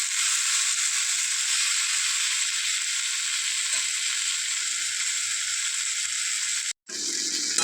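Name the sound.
bitter gourd, potato and eggplant frying on low heat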